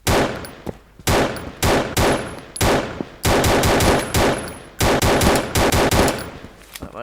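Rapid automatic gunfire rattles in repeated bursts during a Thai mafia shooting game, loud and close with short pauses between volleys and clanging hits mixed in.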